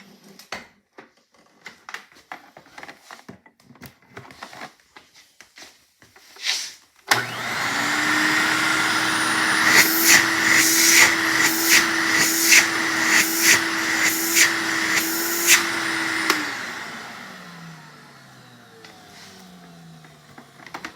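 An Electrolux Diamond Jubilee vintage metal canister vacuum cleaner starts abruptly and runs with a loud, steady motor whine and airflow roar, with rhythmic bumps as it is moved, then winds down with a falling pitch.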